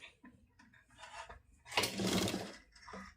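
A sewing machine stitches a pleated nighty, with a short, close whirring run of motor and needle noise after a few soft handling taps and rustles, then quieting again.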